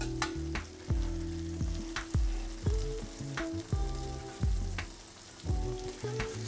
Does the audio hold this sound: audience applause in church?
no